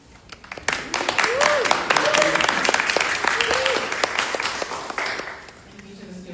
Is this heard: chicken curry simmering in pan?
no